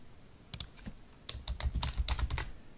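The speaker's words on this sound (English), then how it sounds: "so I'm going to type in my name again." Close, quiet typing on a computer keyboard, a quick irregular run of soft key clicks that grows busier toward the end.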